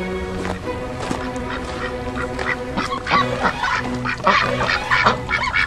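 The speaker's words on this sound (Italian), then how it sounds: "E qui ci sono tre anatre," Farmyard waterfowl, three ducks of the mallard type, quack and honk in repeated bursts at close range, busier toward the end, with other poultry and faint background clucking mixed in.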